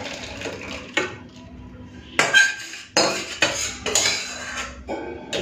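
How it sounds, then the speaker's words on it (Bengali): Raw mango chutney is poured from a cooking pot, with a spoon scraping and clinking against the metal in several sharp, close bursts separated by brief quieter pauses. "তো আমের চাটনি হয়ে গেছে, ঢেলে নেব।"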